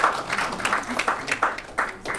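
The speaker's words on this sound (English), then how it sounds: "Round of applause" An audience applauds at a Men's Day event, a steady patter of many hands clapping at moderate volume with brief louder swells and little talk.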